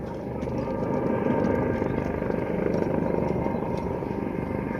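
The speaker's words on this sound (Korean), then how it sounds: "헬기가 다시 옵니다." Fire rescue helicopter on Dobongsan mountain during a hiker rescue, its steady rotor thrum and engine drone holding at a fairly loud, constant level throughout with no talk.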